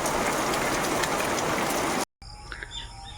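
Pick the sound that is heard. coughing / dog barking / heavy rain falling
heavy rain falling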